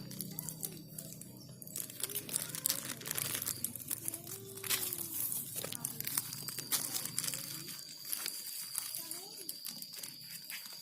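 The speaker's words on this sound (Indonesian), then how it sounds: "Kita ikat di sini pakai tali rapia" Plastic sheet rustling and crinkling while it is tied shut with raffia string for a liquid organic fertilizer setup, close and busy, with a voice and other voices audible in the background.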